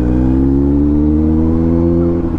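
A Kawasaki Z900 motorcycle engine revs loudly and close, a sustained harmonic roar that climbs steadily in pitch over a couple of seconds before easing off at the end.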